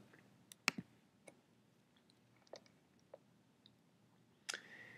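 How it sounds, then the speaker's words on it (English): Sharp, isolated clicks of a computer mouse, a handful spread unevenly across a quiet room, close and crisp with no talking. "now all you have to do at this point is click the Submit button"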